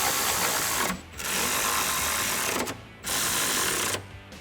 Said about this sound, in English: grab your 14 millimeter socket to tighten them down